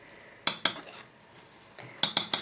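A spoon scrapes and knocks against a pot of ghee made from cream, giving two quick clinks, a pause, then four more sharp taps close by.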